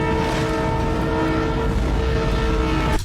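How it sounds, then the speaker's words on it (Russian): A train horn blares loud and steady as a train passes a railroad crossing, the rumble of the rolling train underneath, until it cuts off abruptly at the end. "поезд едет, шлагбаум закрывается"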